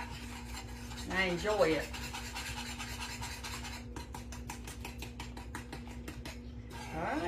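A spoon scrapes and stirs a sugar and butter bread pudding topping in a pan, with soft rhythmic rasping strokes over a low hum, and a voice speaks briefly near the start.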